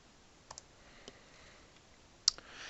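A few crisp computer mouse clicks, a light double click early then single taps and one sharper click near the end, close and quiet with no talking.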